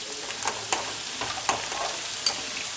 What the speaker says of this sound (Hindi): और इसमें जाएगा प्याज, स्प्रिंग ओनियन, घुमा देते हैं, बाइल को टर्न कर लेते हैं।